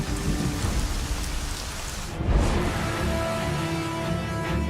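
Heavy rain pours steadily on a surface while a deep roll of thunder swells in the middle and rumbles on beneath the downpour, with no voices.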